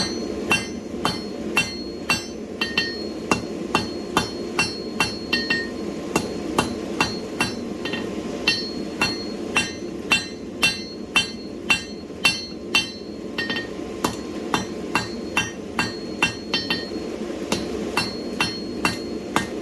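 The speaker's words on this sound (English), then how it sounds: "Half on, half off blows, meaning half on the anvil, half off." A blacksmith hammers a steel bar on an anvil for a set-down, half-on, half-off blows: loud, ringing metallic strikes at a steady, regular pace, close and alone, over a low forge roar.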